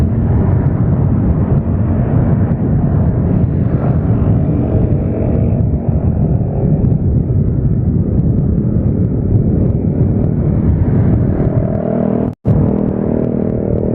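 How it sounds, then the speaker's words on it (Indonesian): Loud, continuous engine rumble from a nearby motorbike near Jongbiru Bridge in Kediri, droning steadily with a brief cutout near the end. "Motor berisik."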